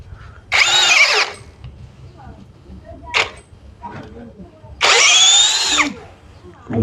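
Two loud bursts of an MLHY M-60 10mm cordless impact drill whirring with a 13 bit, each a second or more long, with brief knocks and clicks between them.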